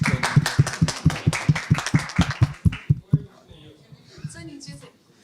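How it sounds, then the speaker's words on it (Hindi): Small group of people clapping in a steady, even rhythm to welcome a newly delivered iPhone, close and crisp for about three seconds before fading out under quiet talk. "तालियों से स्वागत कीजिए"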